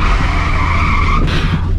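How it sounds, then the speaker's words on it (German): A car in a video game brakes hard, and its tires skid with a loud, sustained squeal that runs unbroken for nearly two seconds, close and dominant, with no voices. "jetzt nochmal Vollbremsung."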